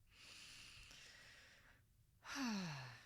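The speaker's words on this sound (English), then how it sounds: "Take a deep breath in." A single slow, deep inhaled breath taken during a calm relaxation exercise, soft and airy, followed by a louder, breathy sigh-like exhale near the end.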